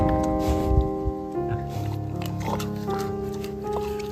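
A pig at a zoo makes oinking and grunting sounds at close range, under steady tonal background noise, with no clear speech.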